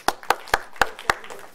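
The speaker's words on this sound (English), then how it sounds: "Personally, I think you should give yourselves a round of applause." A seminar audience's round of applause comes down to a few isolated claps from one or two pairs of hands, five sharp, evenly spaced slaps close by with brief decay between them and no voices.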